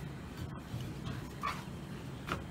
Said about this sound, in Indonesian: Guguk tuh deh.